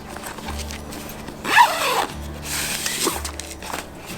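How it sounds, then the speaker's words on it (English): A zipper on the organizer pocket of a Disc-O-Bed XL cot is pulled in one quick, close zip, with softer fabric rubbing and handling noises before and after it. "This one zips, this one cinches."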